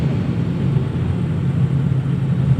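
Heavy road traffic with large trucks in Davao, a loud, constant low engine rumble and droning hum close by, without speech.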